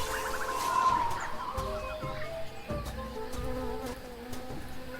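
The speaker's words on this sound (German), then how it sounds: "Das ist Biene." A bee buzzes in the Tales of Monkey Island video game, a continuous droning hum laid over ambient game sounds and music with a few sharp clicks.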